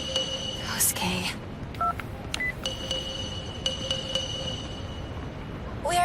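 A telephone number is dialed in short bursts of touch-tone beeps, several quick tones in a row with pauses between them, heard clearly over faint background noise.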